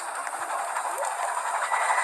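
A moving train gives off a steady, loud rumble of rail cars with a faint clatter of wheels on track. The sound holds at an even level throughout, with no voices.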